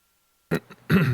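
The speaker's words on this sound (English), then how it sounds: "You caught me clearing my throat." Someone clears their throat close up in two short, rough bursts separated by a brief pause.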